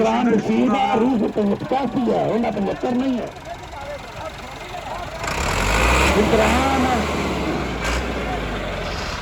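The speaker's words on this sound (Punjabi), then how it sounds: "ਅਗਲਾ ਟਰੈਕਟਰ ਆ ਗਿਆ ਜੀ ਮੁਕਾਬਲੇ ਵਾਸਤੇ" A tractor engine at a tractor-pulling contest in Pakistan rumbles low and loud in the second half, under steady voices from the crowd and commentary, after a stretch of talk at the start.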